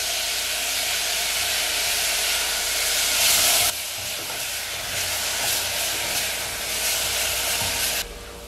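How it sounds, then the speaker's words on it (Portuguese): A pressure cooker on a home stove releases a steady, loud hiss of steam that runs almost unbroken, with a brief dip partway through before the jet resumes. "Panela de pressão."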